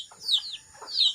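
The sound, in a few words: chickens clucking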